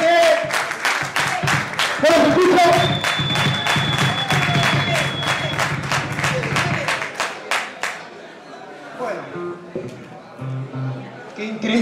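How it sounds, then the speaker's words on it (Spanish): A live concert crowd at El Pool in Ituzaingó claps together in a steady, rhythmic beat for about eight seconds while someone shouts over them. The clapping then gives way to quieter murmuring and scattered sounds. "Aplausos para ellos, vamos, vamos."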